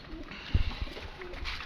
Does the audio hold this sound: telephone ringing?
no